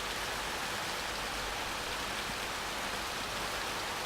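Rain falling in the video game Minecraft, a steady broadband hiss of continuous rainfall that stays even and unbroken throughout.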